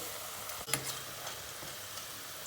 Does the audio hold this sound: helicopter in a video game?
no